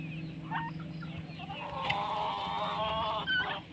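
A free-range chicken clucks close by in a steady run of short, throaty calls that swell in the second half, set against a low, constant farmyard hum.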